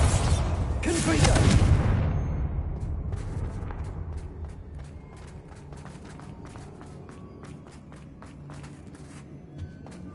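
Confringo fire blast spell in Hogwarts Legacy bursts in a loud, roaring whoosh that swells and fades over about two seconds, followed by a quieter stretch of scattered light clicks and steps.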